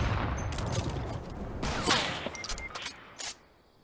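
Gunshots in the video game Fortnite, a quick cluster of sharp cracks and shots with some reverberant tail, fairly loud and spread through a few seconds.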